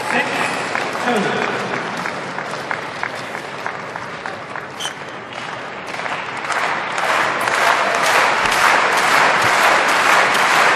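Table tennis crowd at the 2011 German Open men's singles final applauding to support Timo Boll against Zhang Jike: continuous, dense clapping that swells louder toward the end, with a commentator talking over it.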